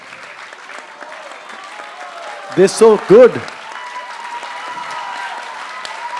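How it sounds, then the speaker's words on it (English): An audience applauds two young hosts at a school panel discussion: steady, soft clapping runs underneath, while a voice briefly speaks over it in the middle. "So please make a huge round of applause for both these kids out there."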